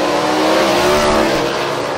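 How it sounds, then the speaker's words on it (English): A Dodge Hemi drag race car accelerating hard at a national drag racing event, its loud engine roaring in a dense, steady blast throughout. "Here comes the honking Hemi"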